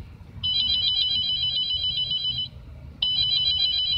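An electronic telephone rings in the horror video game Grinder Of Demons, a steady trilling tone that sounds for two seconds, pauses, then starts again over a low murky ambient rumble.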